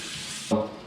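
Cool running water pours over four small cleaned bass, a steady soft hiss that thickens into a fuller splashing stream about halfway through, close by and without voices.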